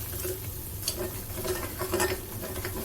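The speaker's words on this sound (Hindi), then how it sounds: "ये देखिए, अच्छे से हम इसको चलाते रहेंगे, हमारा बेसन भी भुनता रहेगा।" Gram flour (besan) roasts with spices in a pan while a spoon stirs it, a steady close sizzle and fry with repeated scraping strokes against the pan and no speech.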